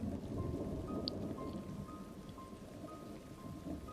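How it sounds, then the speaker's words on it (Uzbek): Steady rain falls outside with a dense, even hiss and low rumble, like a storm heard from indoors, with a faint tone running through it and no voices. "Hamma yoq jimjit, faqat tashqarida yomg'ir ovozi eshitilardi."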